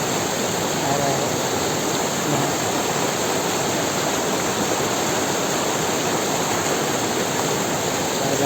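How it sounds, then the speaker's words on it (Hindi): Water roaring over the Akhupada anicut weir on the Baitarani river in Odisha, a dense, steady rushing wash that holds constant and loud throughout with no pauses. "आप आवाज़ सुन के पता लग गया होगा कि इतना पानी का शोर कितना आ रहा है"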